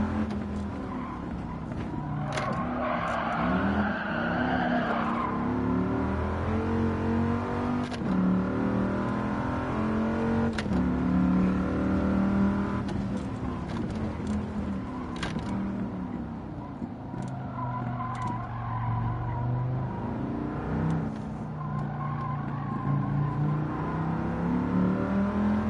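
Racing car drifting in Gran Turismo played in VR with a G29 wheel, engine droning and revving continuously with tyre skids and squeals throughout, loud and steady.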